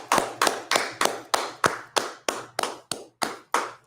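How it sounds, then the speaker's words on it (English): A class ends with claps: about a dozen sharp, evenly spaced hand claps fall in a steady rhythm, fairly close and distinct, with short quiet gaps between them. "Let's clap it up."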